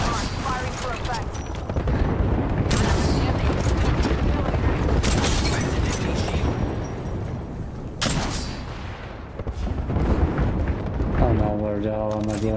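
Airstrike explosions and heavy gunfire boom repeatedly in the Apex Legends video game, the loud blasts coming in dense bursts and rumbling on under a person talking.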